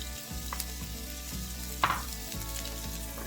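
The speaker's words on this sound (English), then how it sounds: "I'm gonna put in my carrots" Carrots fry in vegetable and sesame oil for vegan japchae, giving a steady, moderate sizzle over a low background hum, with one brief clatter partway through.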